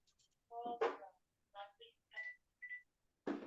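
A telephone rings faintly in the background, a few short electronic tones and chirps spaced apart against near silence.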